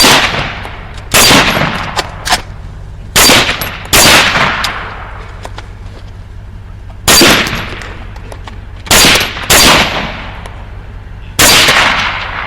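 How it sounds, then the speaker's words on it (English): Rifle gunfire during a hog hunt outdoors, a series of loud, sharp single shots spaced irregularly over several seconds, each with a ringing decay, close to the listener. "As it turns out, Ben's rifle isn't cycling properly"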